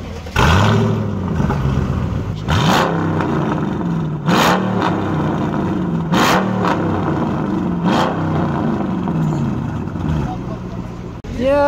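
A powerful Mercedes-AMG Black Series car engine, reportedly 900 horsepower, revs repeatedly in sharp bursts, rising and falling, close by, with people talking underneath.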